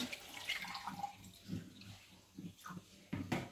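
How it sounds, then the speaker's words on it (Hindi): Water is poured into a bowl of whisked yogurt for pakora kadhi, giving a soft, steady splashing and trickling close by at a low level. "अभी इसमें शामिल करूँगी पानी।"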